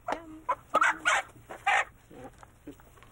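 A chicken, carried along on a village trip among the Kapsiki people of Cameroon, clucks in a run of short, close, uneven calls with brief pauses and no talking.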